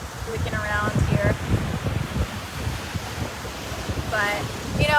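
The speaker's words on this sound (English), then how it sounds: "Oh, the waves are coming up to my towel" Ocean waves wash up a beach toward a towel, heard as a steady broadband surf wash with wind noise across the whole stretch, while a person speaks over it in places.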